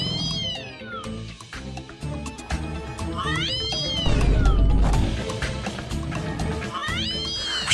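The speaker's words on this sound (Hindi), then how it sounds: "बिल्ली की आवाज कैसे आ रही है?" A phone ringtone made of cat meows plays from a phone left on top of a cupboard, with drawn-out meows repeating about three times over a backing melody.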